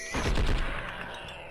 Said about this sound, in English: Alright, I'm gonna shoot him anyways.